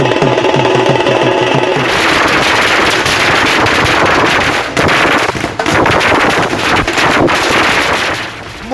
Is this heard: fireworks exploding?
yes